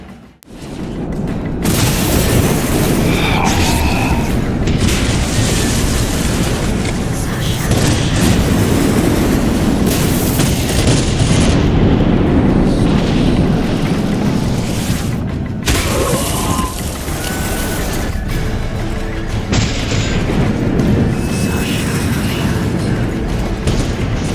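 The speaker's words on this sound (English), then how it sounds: "Flaming balls rain from the sky, and destruction will be unleashed." Explosions and flaming projectiles raining down in The Witcher 2 battle scene, a continuous loud roar of booms and rumbling destruction lasting throughout, with dense low-end impacts and occasional sharper bursts.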